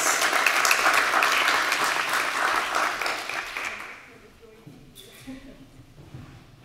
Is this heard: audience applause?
yes